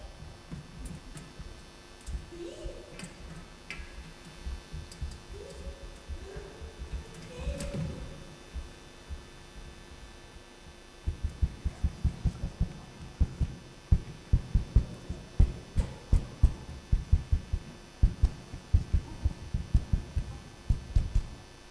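Thumps and creaks from experiments on a trampoline in a performance space, first sparse irregular knocks with faint tonal sounds, then a long run of rhythmic, fairly loud bouncing impacts.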